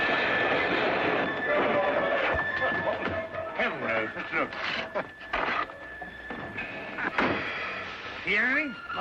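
A train rumbles along steadily with clattering and mechanical knocks, a door or coupling bangs, and people talk over the noise.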